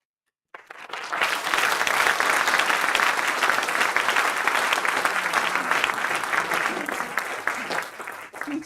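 Sustained applause from the audience at a live public debate on Bath's street barricades, with dense clapping that starts abruptly after a brief silence and holds steady and loud throughout.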